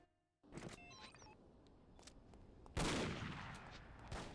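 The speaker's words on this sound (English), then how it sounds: "Shooting the lever here just to make the gondola start moving faster." Gunfire rings out in the No One Lives Forever video game as shots are aimed at a lever to speed up a gondola: a burst of rapid cracks early on, then a loud sustained blast later.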